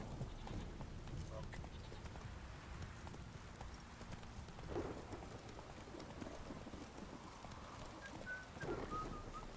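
Soft, rhythmic horse hoofbeats in The Witcher 3: Wild Hunt clop along beneath steady rain-like noise, with occasional faint voices.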